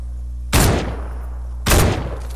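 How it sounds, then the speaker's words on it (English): Two loud, close gunshot bursts from an assault rifle in the video game Fortnite, about a second apart, each booming and then fading, with no talking. "I don't know if there's somebody shooting in there."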